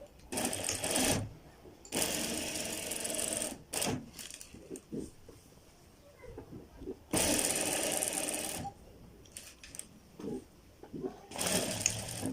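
A sewing machine stitching a child's kurta, running in several loud bursts of rapid whirring and clattering separated by pauses, with quiet handling noises between runs.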